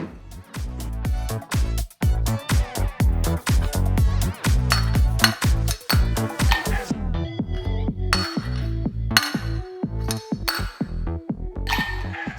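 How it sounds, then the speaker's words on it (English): Ice cubes clink and clatter into a glass as a flair bartender tosses them behind the back, a rapid series of sharp, close, bright impacts with ringing glass tones, loud and without talk. "you're just throwing that ice cube into the glass behind your back"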